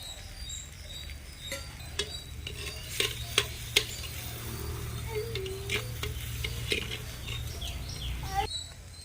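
Chopped carrots and beans tipped into a clay pot for village-style sambar: a quick run of light patters and clatters near the mic over a steady low hum, with no talking.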